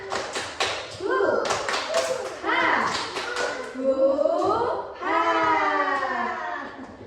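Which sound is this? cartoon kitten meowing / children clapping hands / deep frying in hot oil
children clapping hands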